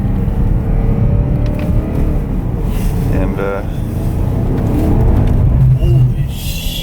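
A Porsche Panamera Turbo's 4.8-litre twin-turbo V8 rumbles steadily with a low revving drone, loud and close, while people talk over it.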